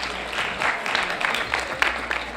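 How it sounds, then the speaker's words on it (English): Delegates at a junior Model United Nations session clapping after an amendment passes, a short, lively patter of many hands close by. "Clapping is in order."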